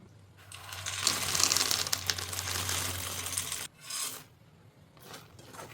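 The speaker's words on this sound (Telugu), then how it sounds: "ఇప్పుడు పప్పు వేసేసుకుందాం" Roasted peanuts stirred into hot jaggery syrup in a pan for homemade palli chekka, giving a close, steady scraping and rasping that swells, cuts off abruptly, then returns in two shorter bursts.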